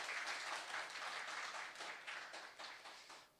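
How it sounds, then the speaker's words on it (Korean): A church congregation claps together during a Sunday worship service, a sustained wash of applause that fades slightly toward the end. "우리 박수 한번 보내드릴까요?"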